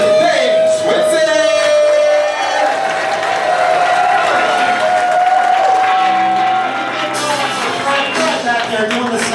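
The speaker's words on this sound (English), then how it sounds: "Could y'all please give it up for Mr. Dave Switzer?" A comedy club audience at a workshop showcase at the Cleveland Funny Bone bursts into loud, sustained applause with cheers and whoops. The crowd noise holds steady for several seconds and carries a steady tone beneath it.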